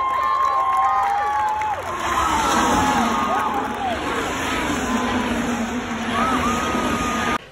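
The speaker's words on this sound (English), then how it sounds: "This is the clip of everybody cheering when Carlos Sainz wins the lead." A grandstand crowd at the 2024 Australian Grand Prix cheers and shouts nonstop as Carlos Sainz takes the lead, a dense, loud roar with scattered whoops throughout.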